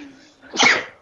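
A single sharp human sneeze bursts out close and loud after a quiet breathy intake, lasting well under a second.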